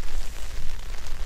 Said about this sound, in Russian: Вот и дождик пошел.